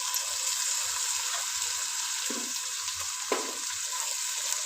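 Tomatoes, green chilli, mint and coriander sauté in a pan for biryani, giving a steady close sizzle with a couple of brief stirring scrapes partway through, no talking.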